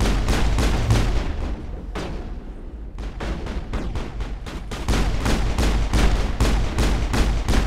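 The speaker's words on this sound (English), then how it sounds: "I'm shooting you right in your face" Sustained Mass Effect firefight with dense, steady volleys of rapid gunshots over a low rumbling bed, briefly thinning near the middle before resuming at full intensity, loud and close, no voices.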